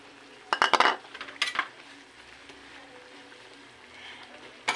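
Bananas go into a pot of simmering pork mechado, with a few sharp clinks of a metal utensil against the pot early on, then a quiet bubbling simmer and another clink at the end.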